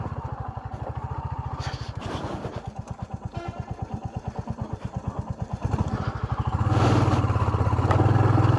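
A motorcycle engine with luggage loaded chugs loudly and unevenly climbing a badly broken mountain road, then revs up harder toward the end, close by, with rattling and clatter.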